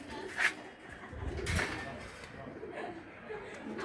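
Jhak-necked pigeons, a male and a female in a fancy flying breed loft, coo in low murmuring bursts close by, with a voice talking at moments over them.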